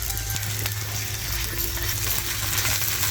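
Cumin seeds, chopped chili, ginger and garlic frying in hot oil for a paneer tava masala, a dense steady sizzle close by with faint clinks of a utensil.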